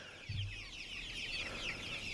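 Chickens in a poultry farm house cluck in a steady, dense chatter that fills the space, with a low rumble of ventilation or machinery underneath throughout.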